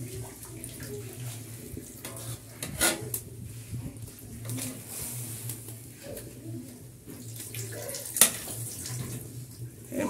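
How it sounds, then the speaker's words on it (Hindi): Water runs from a tap into a pot in a home kitchen, a steady soft splashing stream, with birds calling in the background and a couple of sharp clinks. "अच्छी तरह पानी छोड़ लो बिच।"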